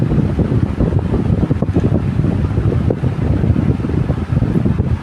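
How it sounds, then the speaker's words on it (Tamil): An electric fan runs at top speed, giving a loud, steady rushing whoosh of moving air that continues without a break. "இப்போ ஃபேன் பார்த்திங்க அப்படின்னா டாப் ஸ்பீடில் ஓடிட்டுருக்கு"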